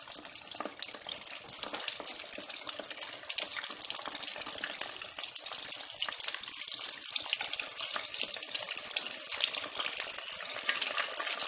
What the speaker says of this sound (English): I'm going to stick a few down in there. Let them fry for about 5 to 6 minutes.